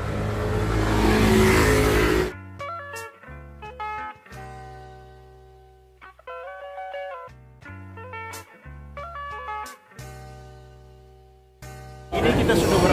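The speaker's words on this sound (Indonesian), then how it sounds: "Ini metro tua dan berisik banget." An old, noisy Rome Metro line B train, crowded with passengers, roars with loud broadband rumble for the first couple of seconds and again at the end, with voices and tonal sounds in between.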